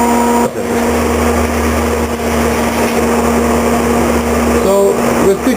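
A CT520D TIG/stick welder stick welds at about 80 amps, giving a loud, steady electrical buzzing hum that runs close and continuous, with brief dips and crackles.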